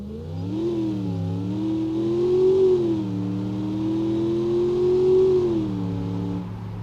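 The V8 engine of an ETK executive car in the driving game BeamNG Drive revs up and down twice in smooth, sustained swells, a clear mid-pitched hum heard alone.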